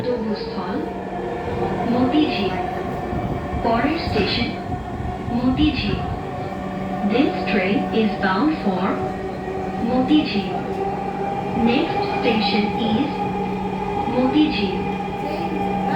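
Dhaka metro rail train running between stations near the Secretariat stop on the Mirpur 10 to Motijheel line: a steady rolling rumble with tonal motor hum and faint passenger voices in the carriage.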